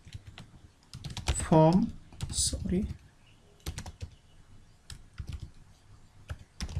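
Keys clatter in quick irregular bursts as code is typed on a computer keyboard while building a Bootstrap 5 form, with someone talking over the clicks in the middle.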